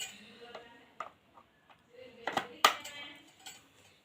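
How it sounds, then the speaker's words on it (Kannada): A part pushed into a hole snaps into place with a crisp click, preceded by light metallic taps and clinks, close and fairly quiet. "ಹೋಲ್ನಾಗ ಹಿಂಗೆ ತುರ್ಬೇಕು ಕಟ್ ಅಂತ ಆವಾಜ್ ಬರ್ತೈತಿ"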